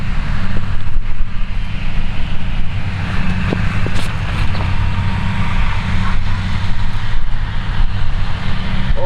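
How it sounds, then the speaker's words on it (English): A strong headwind rushes across an outdoor disc golf course, buffeting the microphone with a continuous loud roar and rumble that rises and falls in gusts. "It's a lot of headwind too."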